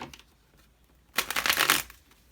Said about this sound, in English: Let me give it a good shuffle first.